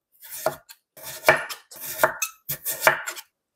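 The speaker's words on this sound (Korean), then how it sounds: "무는 3mm 정도로 얇게 나박 썰기 해주세요" A knife cuts radish into thin slices on a cutting board, giving five or six crisp, close chops spaced about half a second apart, with no talking.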